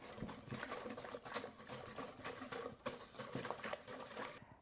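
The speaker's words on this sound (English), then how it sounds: "I'm going to start adding my flour in a little bit at a time. And we're going to whisk it in." Flour whisked into bun dough in a bowl, a quick continuous patter of whisk strokes, close and fairly faint throughout, with no talking.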